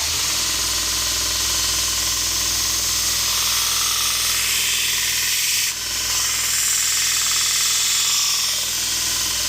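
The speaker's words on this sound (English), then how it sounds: "This is a fresh 120 grit belt, and then we'll go to the 240, the 600," A kukri edge is sharpened on a belt grinder with a fresh 120 grit belt, giving a loud, continuous abrasive roar over a steady motor hum. It dips briefly once midway.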